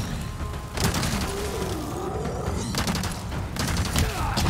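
LE5 submachine gun fired in Resident Evil 4 Remake: rapid, loud bursts of automatic fire come in several volleys over continuous in-game noise and thuds.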